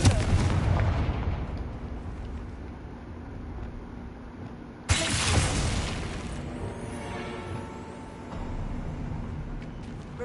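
Confringo fire spell blasts go off in the video game Hogwarts Legacy: one booming explosion with rumbling decay, then a second sharp, loud blast midway that rings out with crackling debris.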